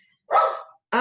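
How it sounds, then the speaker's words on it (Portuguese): An angry dog lets out one loud, close, harsh bark, then a second bark starts right at the end after a short silence. "O cachorro tá bravo."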